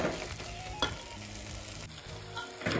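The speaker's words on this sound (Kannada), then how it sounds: "ನೋಡಿ ಇವಾಗ ಮೆಂತ್ಯ ಸೊಪ್ಪು ನೀಟಾಗಿ ಬೇಯ್ತಾ ಇದೆ" Fenugreek leaves cooking under a plate lid in a pan for methi pappu, a steady low sizzle and hiss with a couple of faint clinks, close and without speech.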